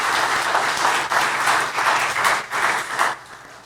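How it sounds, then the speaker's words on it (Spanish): A church congregation applauds during a sermon, dense steady clapping from a crowd in a hall that swells in waves, then thins and fades toward the end. "Démosle un aplauso, Señor."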